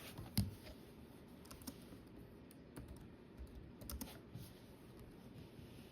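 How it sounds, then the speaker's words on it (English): Keys tapped on a computer keyboard to enter a search, producing faint, scattered clicks with a few louder strokes against a quiet room background. "So we'll type in 2023 Phoenix."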